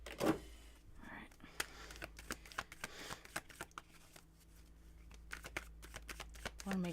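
Tarot cards being shuffled by hand close up, a long run of crisp riffling flicks and taps at an uneven rhythm, quiet and intimate in a still room.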